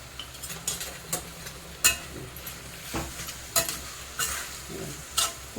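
Ridge gourd thecha with peanut powder and salt being sautéed in a pan, giving a soft sizzle broken by repeated spoon scrapes and stirring knocks at an irregular pace, close and with no voices.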